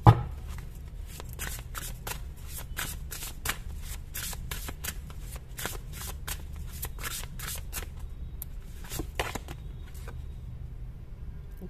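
Playing cards shuffled by hand during a card reading, a quick run of crisp riffling flicks and snaps repeating steadily over a low room hum, close and clear with no talking.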